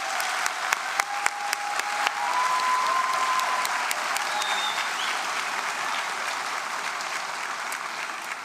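An audience at a spring convocation ceremony applauds steadily, a dense, sustained patter of many hands clapping that starts with a few scattered claps and swells into continuous applause.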